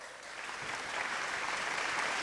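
A crowd at a Digicel Stars 2015 talent show in Haiti applauds an artist, with dense steady clapping that swells slightly and stays loud throughout.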